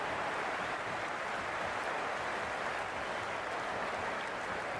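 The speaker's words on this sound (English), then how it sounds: "this crowd is already making it hard for me to be heard." Dense stadium crowd roar during an IPL match between CSK and MI in the Cricket 26 video game, a constant loud wash of cheering with no breaks.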